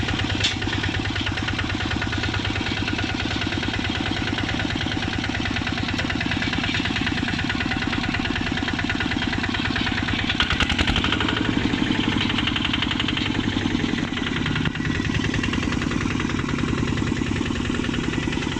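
A ZT140DI Plus diesel engine driving a rotary tiller runs continuously nearby with a steady, rattling, knocking throb that swells slightly partway through; no voices.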